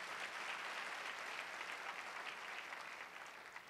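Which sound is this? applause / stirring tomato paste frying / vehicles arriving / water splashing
applause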